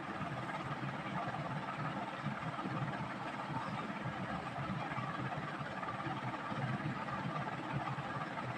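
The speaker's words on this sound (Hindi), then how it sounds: "अब हमें इस तरफ सिलाई लगानी है" A sewing machine stitching lace onto a dupatta runs with a steady, close mechanical whir and rapid low chatter that holds unbroken throughout.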